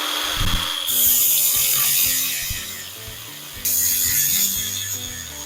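A grinder works down the weld points on a small welded steel rectangular frame, whining loudly in two sustained bursts with a brief dip between, alongside mechanical clatter from the workpiece.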